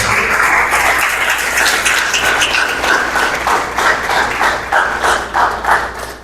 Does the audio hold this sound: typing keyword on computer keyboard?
no